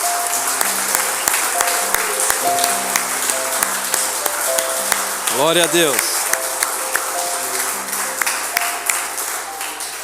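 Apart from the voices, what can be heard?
church congregation applause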